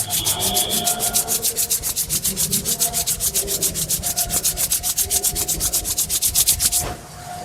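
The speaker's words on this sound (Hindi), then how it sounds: "दोनों हाथ को रब करें" Two hands rub briskly together near the listener, a loud rhythmic swishing of quick, even back-and-forth strokes that keeps going for about seven seconds before stopping, with no talking.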